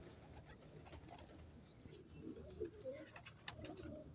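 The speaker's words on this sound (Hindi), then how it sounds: "बिल्कुल जवान कबूतर, देसी कबूतर" Soft, low cooing of young desi pigeons repeats over a steady outdoor background, several birds murmuring together at a distance.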